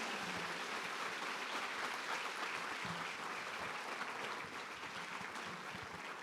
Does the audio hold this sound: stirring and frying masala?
no